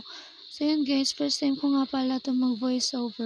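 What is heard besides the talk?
crickets chirping at night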